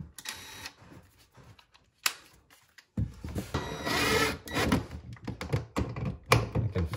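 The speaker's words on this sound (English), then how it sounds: "Use a screw gun." A screw gun drives screws into an old work electrical box mounted in a wall opening. Short bursts come first, then a longer stretch of steady whirring and grinding as the screws pull the box's tabs tight. The sound is close and fairly quiet, with no talking.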